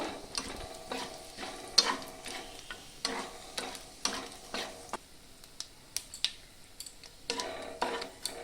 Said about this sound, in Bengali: এগুলোকে আমি ভালো করে একটু নাড়াচাড়া করে নিয়ে ভেজে নেব